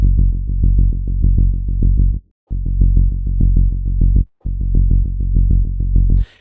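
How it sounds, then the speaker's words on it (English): An electric bass with a subtle room reverb on its low end plays a fast run of repeated punchy notes in three phrases, with short breaks between them, loud and close. "we got that sound now with a little reverb"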